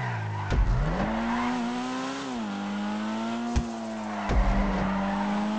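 A Dinka Sugoi front-wheel-drive sports car in GTA Online drives hard with a steady engine drone that rises and falls, while tires squeal through fast corners and a few sharp thumps cut in.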